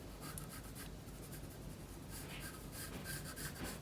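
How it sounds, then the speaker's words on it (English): A pencil draws lightly across paper in an art lesson, a soft continuous scratchy scraping with gentle rhythmic strokes, close and steady with no talking. "So I'm going to draw this in."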